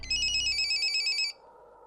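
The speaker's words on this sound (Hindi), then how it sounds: "डॉक्टर साहब का फोन होगा।" A telephone rings in one sustained electronic trill lasting over a second, then stops, leaving quiet room tone.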